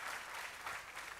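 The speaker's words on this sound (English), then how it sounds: "So another round of applause." Applause from an audience at an ambassadors' conference, a dense even wash of many hands clapping at a distance, brief and moderately quiet, with no talk over it.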